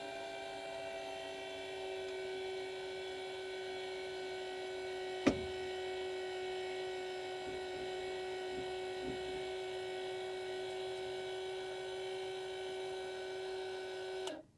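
An electric trailer jack motor raising a trailer tongue without hand cranking, giving a steady close whine with a constant pitch for about fourteen seconds before stopping abruptly, heard alone.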